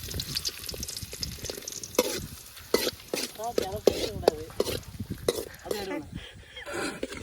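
Raisins and cashews sizzle in a pan while a spoon scrapes and clatters through them in quick irregular strokes, close by, with people talking intermittently over the cooking.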